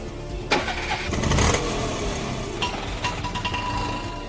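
A car engine cranks and starts, then runs at a steady mid-pitched idle with a few revs, close by and fairly loud, amid background drama sound.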